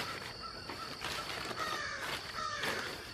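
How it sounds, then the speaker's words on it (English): Several crows caw repeatedly at moderate distance in an outdoor yard in Georgia, USA, with harsh calls rising over a steady background hiss and faint ambient noise. "It's crows."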